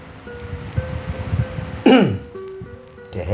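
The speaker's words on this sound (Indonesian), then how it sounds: "Dehem itu bagus" A person clears their throat once in a single loud, rough burst midway, amid soft rustling and faint background tones during a massage treatment for a pinched nerve.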